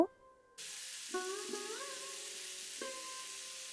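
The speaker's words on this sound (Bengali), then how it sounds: "হলুদ গুঁড়োটা দিয়েও আমি আবারও একটু ভালো করে নাড়াচাড়া করে নেব" A turmeric spice paste for Bengali pabda fish rosha fries in a pan with a steady hiss, while a stirring utensil adds a few scraping, squeaky strokes.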